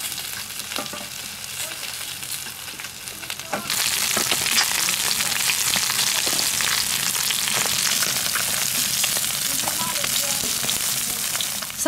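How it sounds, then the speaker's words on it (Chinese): Carp pieces fry in hot oil, browning to golden before being stewed with tofu, giving a steady close sizzle that jumps louder a few seconds in and stays dense and crackling to the end, with no talking. "把鱼煎到金黄"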